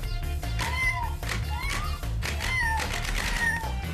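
A kitten meows several times in a row on a studio set, with short rising and falling cries over background music; the cries may come from a person imitating a cat rather than a real animal.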